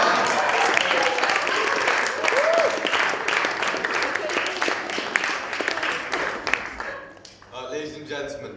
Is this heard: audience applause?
yes